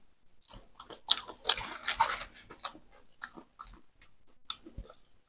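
Close, crisp crunching and biting of crab-flavoured crackers, loud bites early, then softer intermittent chewing with pauses, no speech.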